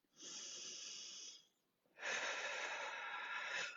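Deep breathing during a floor core exercise, two long airy breaths close to the mic, the first a steady inhale and the second a stronger, louder exhale after a brief pause.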